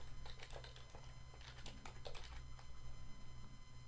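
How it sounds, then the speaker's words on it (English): Computer keyboard typing: quick, close key clicks in short uneven bursts over a low steady hum, with no talking. "So we're going to type in type of service."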